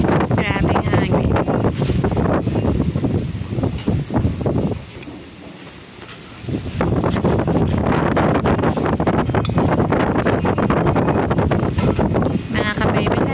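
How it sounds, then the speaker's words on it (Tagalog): Strong wind buffets a microphone outdoors in a rural province, heavy gusty rumble dropping briefly mid-way before surging back, with voices faintly underneath. "Grabing hangin."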